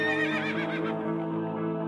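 A horse whinnies in a ghostly battle sound effect, a single drawn-out, wavering neigh that fills the clip loud and close with no talk over it.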